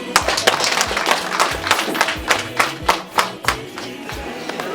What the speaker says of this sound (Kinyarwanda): Dushimire Imana twihaye amashyi.